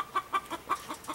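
Hens of a different, larger breed than Rhode Island Red cluck nearby on a farm, a quick run of about seven short, evenly spaced clucks heard alone.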